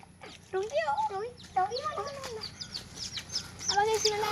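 A Persian breed chick clucks in short repeated calls, close and fairly loud, with people talking over and between the bird's sounds.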